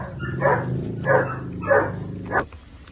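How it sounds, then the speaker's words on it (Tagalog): A pitbull terrier barks at an outdoor pet market in Bocaue, Bulacan, four loud, close barks spaced evenly over a few seconds, with faint background noise. "meron pa tayong pitbull terrier"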